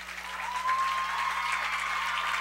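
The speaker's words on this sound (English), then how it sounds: "As the crowd claps as Peyton Tunis gets up" A crowd applauds in the stands at a high school varsity football game, a steady wash of clapping and faint cheering held at a distance for a couple of seconds.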